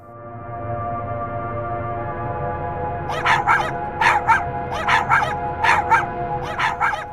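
A cartoon dog barks repeatedly in a Hindi animated story, a run of about a dozen sharp, evenly spaced barks in pairs over a low steady background hum, with no talking.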